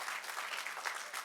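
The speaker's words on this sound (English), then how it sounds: "give him a round of applause" Brief, fairly faint applause from students at a high school assembly, a steady patter of many hands clapping at a distance.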